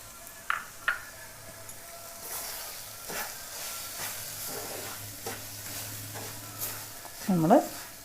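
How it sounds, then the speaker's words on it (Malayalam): Roasted rava and banana mixture is stirred in a pan for a sweet snack, giving soft scraping and a low sizzle with a few sharp clinks of the spoon against the pan. "നമ്മൾ ജസ്റ്റ് ഇങ്ങനെ ഇളക്കി കൊടുക്കാം"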